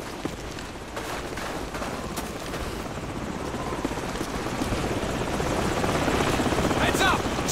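A helicopter in a Call of Duty military shooter approaches with a steady, dense rotor roar that grows gradually louder, while scattered gunfire and faint voices sound beneath it.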